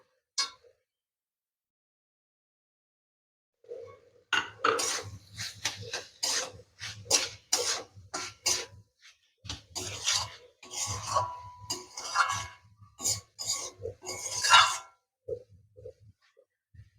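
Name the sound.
mixing ingredients together in a pot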